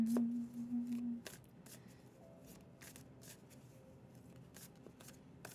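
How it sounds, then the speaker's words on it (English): Tarot cards being shuffled by hand, a soft papery riffle and slide repeating in quick bursts at close range, with a brief hum early on and no talking. "I'll still be shuffling by the time you get out of ads."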